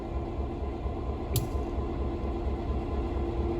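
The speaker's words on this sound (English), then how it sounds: "once the locomotive is centered, it will drop by about 3 inches" A locomotive standing on a railroad turntable at East Chattanooga, Tennessee, with a steady low mechanical rumble and hum. A single short bright squeal cuts through partway in.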